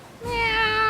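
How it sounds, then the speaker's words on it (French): A single drawn-out cat meow, clear and fairly close, rising in after a brief quiet start and held steadily to the end. "Miaou."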